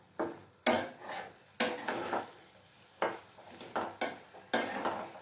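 Capsicum, tomato and peas stirred in a hot pan with a metal spoon, sharp scraping clatters every second or so over a soft sizzle, no talking.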